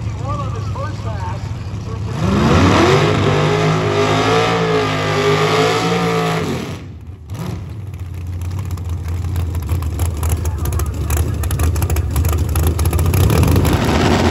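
A C2 Corvette at a drag racing event, its engine revving and roaring loudly and steadily with a rising pitch, a brief dip, then continuing under commentator talk.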